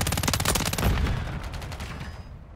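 Rapid bursts of submachine gun fire in Call of Duty Modern Warfare 3 multiplayer on Xbox Series S, a loud close rattle of repeated shots that tapers off toward the end.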